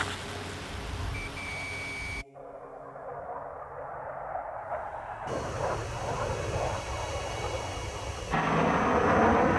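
Enemy jet aircraft approaching at high speed in the Ace Combat 7 video game: a loud, continuous engine roar that cuts out abruptly, returns as a rising rushing whoosh, then swells louder near the end.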